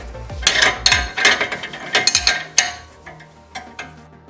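Wrench work on a Jeep JL steering nut, with an Allen key holding the stud: a string of sharp metallic ratchet clicks and clinks in short bursts, close and fairly loud, with no talking.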